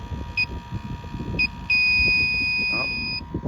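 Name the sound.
electronic AC refrigerant leak detector beeping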